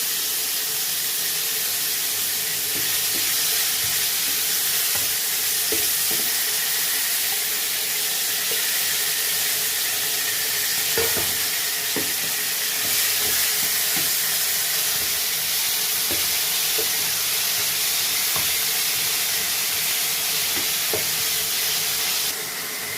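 Spice paste frying in hot oil with tempered whole cumin for a banana flower dish, giving a steady hissing sizzle throughout with occasional light clinks of a spoon in the pan, with no speech.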